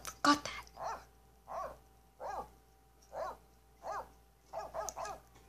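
A small wolf, or a voice imitating one, gives a series of short yipping barks, about eight of them evenly spaced, after a sharp clatter at the start. The barks are fairly close and moderately loud.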